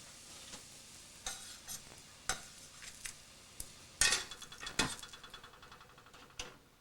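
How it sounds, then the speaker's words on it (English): Bread caramelizing in a hot pan, with faint soft sizzling beneath sharp, sporadic clinks and scrapes of a utensil against the pan as the pieces are stirred and turned, close and quiet, no voices. "you want them nice and caramelized, but you don't want them burned"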